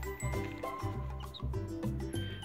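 Baby chicks chirping steadily in a small group, soft high peeps layered over a low hum, faint and continuous with no voices.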